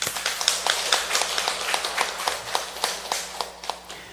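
A church congregation claps in an even, brisk rhythm, about four claps per second, sustained and fairly loud throughout.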